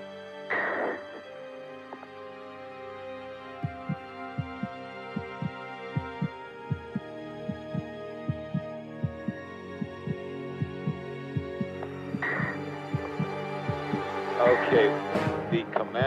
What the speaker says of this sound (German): Die Astronauten bekommen solches Herzrasen